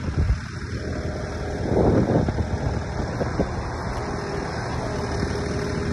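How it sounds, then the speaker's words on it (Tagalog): Strong wind gusting along the Manila Bay shoreline after a typhoon, a steady broadband rush roaring into the microphone for about six seconds, swelling louder near the two-second mark, with faint traffic rumbling in the background. "At malakas pa din ang hangin, malakas pa din ang alon."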